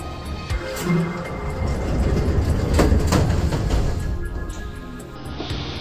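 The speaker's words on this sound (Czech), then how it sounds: "Ukončete nástup, dveře se zavírají." A historic EČS metro train on Prague's line C closes its doors and pulls away, a rumbling, rattling swell that builds and then eases, loud and close from inside the carriage.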